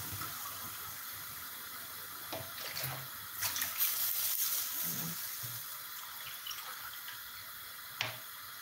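Water poured into a pot of round rice for cooking, soft splashing and trickling with a few light clinks, faint and close in a quiet kitchen.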